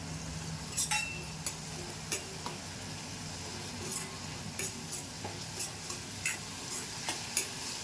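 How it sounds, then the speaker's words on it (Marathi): Curry leaves drop into hot oil for a Malvani sukka chicken masala, and a steady sizzle and fry runs under repeated light clicks of a spoon stirring against the pan, close by and without talk. "आता मी कढीपत्ता पण टाकून घेते"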